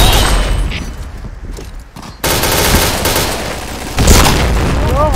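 Explosions and rapid gunfire in the Point Blank shooter game, loud dense bursts of shots with booming blasts, including a heavy boom near the end.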